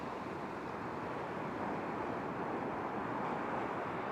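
Ocean surf rolling onto a beach, a broad steady wash of breaking waves mixed with wind buffeting the microphone, constant and fairly loud with no voices.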